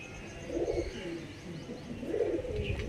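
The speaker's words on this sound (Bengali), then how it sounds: "সো এবার দেখাতে চলেছি এক জোড়া পিওর বন্ধু লাইনের পায়রা" A pair of pure Bondhu line pigeons coo softly at close range, two low, rolling coo phrases about a second and a half apart over faint background hiss.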